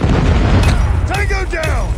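A predator missile strike in the Call of Duty Mobile video game lands as a loud, heavy booming rumble that fills the opening moment, then rolls on beneath a voice that speaks over the continuing low roar.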